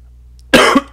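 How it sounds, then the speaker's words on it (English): A single sharp cough bursts out after near silence, loud and close, followed by a brief second catch of breath at the very end. "I had to cough that whole time"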